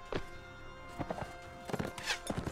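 Horse hooves clopping in the video game Mount & Blade Warsword Conquest, a handful of sharp close hoof strikes in quick bursts, fairly loud and mostly without speech.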